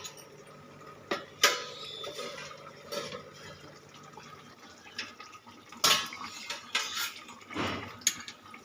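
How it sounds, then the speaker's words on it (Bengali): A lid comes off a pan of mung dal cooking, with sharp metallic clanks and scrapes of metal on metal standing out from a quiet kitchen background, set in a few distinct bursts. "এবার আমি ঢাকাটা খুলে নেব"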